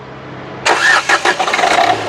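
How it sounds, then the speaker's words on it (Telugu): With a single crank, a 2017/18 Renault Duster RXS engine cranks briefly and catches, settling into a close, loud, uneven idle after a short stretch of quiet. "సింగిల్ సెల్ఫ్లో కార్ స్టార్ట్ అవుతుంది"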